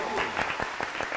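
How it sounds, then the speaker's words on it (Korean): Audience applause breaks out on a Korean comedy variety show set on a golf outing with a crowd of comedians, a short burst of clapping with voices mixed in. "박수 한번 주세요"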